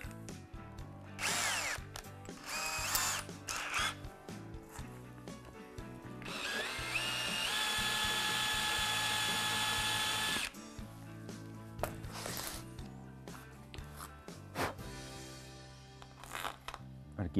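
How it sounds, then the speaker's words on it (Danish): A power drill with a countersink bit bores into acrylic (plexiglass): several short whirring bursts, then a longer steady high-pitched grind of about four seconds, followed by more brief drill pulses and handling clatter nearby. "Og så bruger jeg sådan en undersænker."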